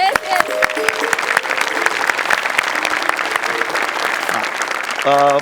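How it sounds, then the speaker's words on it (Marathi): A live audience at a Marathi comedy stage show claps loudly for a book unveiling, with dense, sustained applause that ends with a brief tonal sound. "एकदा जोरदार टाळ्या."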